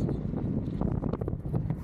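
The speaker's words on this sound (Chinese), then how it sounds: "哇，这个风这么大。" Strong wind roars across the microphone while cycling outdoors in Iraq, a steady low buffeting rumble with gusty fluctuations, loud and continuous with no speech.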